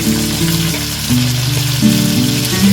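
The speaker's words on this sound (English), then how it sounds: "The chicken making that sound, and hear that sound, guys?" Pieces of seasoned, flour-coated chicken frying in hot oil, a loud, close, continuous sizzle and crackle with no voices.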